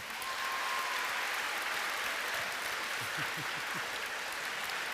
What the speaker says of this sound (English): I think everyone at BT deserves a big round of applause